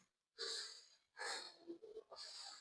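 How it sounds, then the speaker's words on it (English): Heavy, audible breathing of a person tired after running fast, three loud breathy gasps close to the microphone, separated by short pauses, with no talking. "I am breathing. I am breathing. I am breathing."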